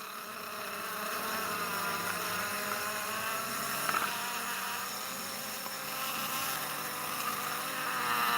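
Honeybees fanning their wings to ventilate inside a jar, a steady, dense buzzing drone that holds throughout at close range with no talk.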